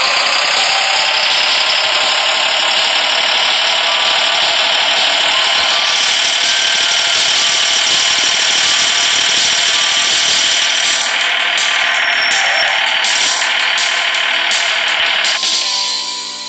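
A tractor engine idles loudly and steadily in a farming simulation video game, a constant rattling drone that shifts slightly in tone partway through before fading at the end.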